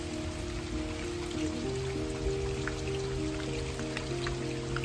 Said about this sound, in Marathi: आपल्या वरती कसा पाऊस पडतोय